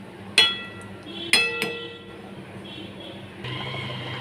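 A lid set onto a pan of simmering hilsa fish curry in mustard paste gives two sharp metallic clinks a second apart, followed by a softer rattle and a steady bubbling hiss.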